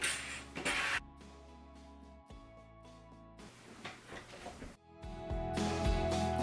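A sewing machine stitching sweatshirt sleeves right sides together, with a steady mechanical hum broken by short pauses and louder bursts of running stitches, close and alone.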